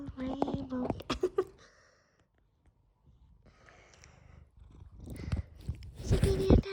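A pet cat purrs softly up close, the low rumble broken by brief snorts and rustles, while a human voice talks over parts of it.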